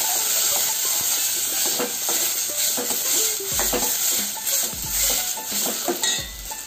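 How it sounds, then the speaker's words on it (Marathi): Onion sautéing in a pan with spices for a clam curry, a steady close sizzle broken by repeated spoon scrapes and clinks against the pan, with no talk. "आता आपण कांदा चांगला परतून घेऊया."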